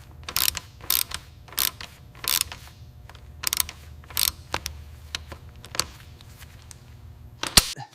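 A wrench works a stubborn, rusty nut loose on a 2016 Toyota Land Cruiser V8, giving about a dozen sharp, close ratcheting click bursts at a fairly steady rhythm against a quiet background.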